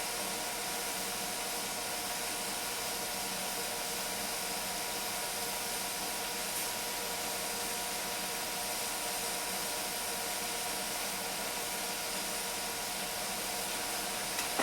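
Steady, loud rushing hiss of steam venting from a pressure cooker without pause, a constant broadband whoosh filling the whole stretch, no talking.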